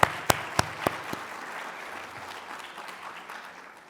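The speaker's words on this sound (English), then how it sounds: "let's have a round of applause for all the students" An audience at a college of medicine convocation applauds the graduating students, a few sharp nearby claps followed by a softer, fading spread of clapping from the crowd.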